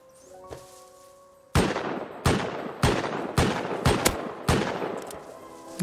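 Incendiary rounds in a video game fire in about seven loud, sharp shots at an uneven pace. The shots follow a quiet stretch where a soft tone hums in the background.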